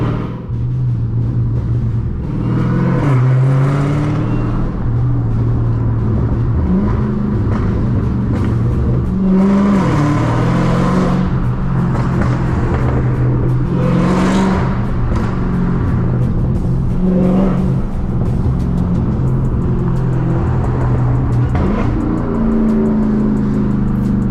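A 1000-horsepower Dodge Challenger Hellcat Redeye burbling and rumbling while driving on the road, loud deep exhaust from inside the car with repeated rises and falls as the throttle is worked, steady throughout.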